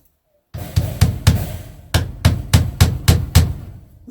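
A hammer strikes a nail about ten times in quick succession, sharp and close, with a brief pause after the first few blows.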